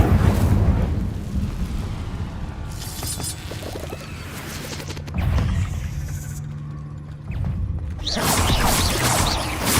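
An Incendio fire spell is cast in Hogwarts Legacy, with a roaring, crackling burst of flame and whooshing blasts that swell and fade across several bursts amid other combat effects.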